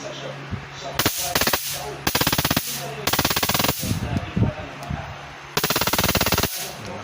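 An electric stun baton built from a power module crackles in harsh, loud rapid-fire bursts of about a second each, four in all, separated by short gaps with faint background sound.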